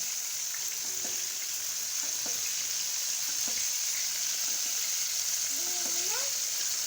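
Garlic butter chicken sizzles steadily in hot oil while oil is spooned over the pieces, giving a constant bright frying hiss with faint clinks and a voice talking softly underneath.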